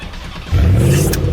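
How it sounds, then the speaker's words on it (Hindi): A car engine cranks and catches after a brief quiet lead-in, then settles into a loud, steady revving roar close by, with no talking over it. "भैया गाड़ी स्टार्ट हो गई"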